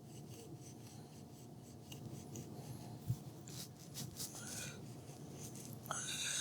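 A bread knife sawing across a layer of chocolate cake, a soft continuous rasping and rubbing close by, growing slightly louder toward the end.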